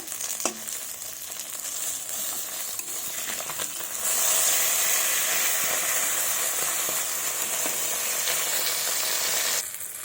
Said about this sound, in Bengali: মাছগুলোকে লাল লাল করে ভেজে নেব।